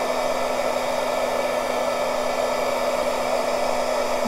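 Hair dryer style blower running steadily to dry embossed craft dangles, a loud continuous whirring hum with a constant tone throughout.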